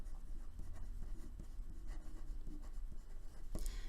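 Pen writing notes on paper during a statistics lecture on confidence intervals: close, quiet scratching strokes in an irregular rhythm, ending in one sharper tap.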